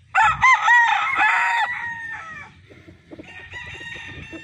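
A five-month-old pure SBR gamefowl rooster crows loudly and close by in one long, ringing call, followed by quieter clucking and scattered farmyard noises.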